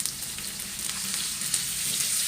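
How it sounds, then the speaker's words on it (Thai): Sliced pork belly stir-frying in a pan with garlic and onion, a steady bright sizzle with faint scraping stirs throughout, close and continuous. "ใส่เนื้อหมูที่เราหั่นไว้ลงไปผัดให้สุกเลยค่ะ"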